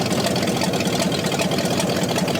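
A scrapped Jeep Cherokee's 360 V8 engine idles steadily and loudly, its low rumble pulsing evenly like an exhaust leak, with no voices.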